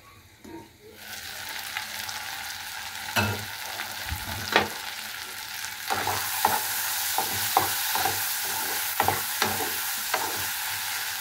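Green tomato bhaji fries in a pan with a continuous close sizzle that grows louder partway through, broken by frequent scraping stirs and clinks of a spoon.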